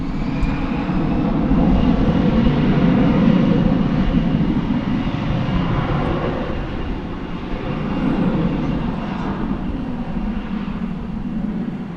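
An airliner takes off from runway 18 left at DFW Airport, its jet engines roaring loudly and steadily from a distance, swelling and easing slightly over the span.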